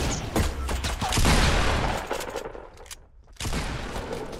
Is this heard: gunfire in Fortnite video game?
yes